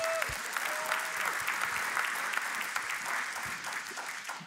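A church congregation applauds, with steady dense clapping throughout and a couple of brief tonal squeaks at the start.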